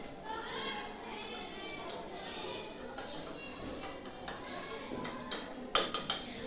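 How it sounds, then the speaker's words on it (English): A glass stirring rod clinking against a beaker while dissolving a solid into a solution that turns blue for a single displacement reaction, light taps building to a quick cluster of bright clinks, with faint voices in the background. "We should stir it until it dissolves totally in it and the color turns into blue."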